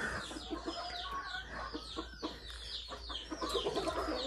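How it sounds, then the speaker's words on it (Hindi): A rooster clucks and chatters softly amid a busy mix of bird calls, faint and continuous with a low background hum. "हमारा करनाथ मुर्गा भी इधर घूम रहा है"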